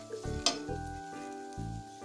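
A vegetable mixture for bread cutlets cooks in a pan, giving a steady close sizzle with a few scraping stirs and one brief bright clatter, no voices.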